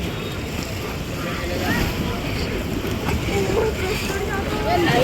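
Sea waves rolling onto the shore at Dwarka, Gujarat, as a constant loud roar of surf mixed with gusty wind buffeting the microphone, while voices speak faintly underneath.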